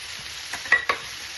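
Garlic and ginger fry in hot oil in a pan for a chicken dish, giving a brief steady sizzle broken by a couple of short stirring scrapes.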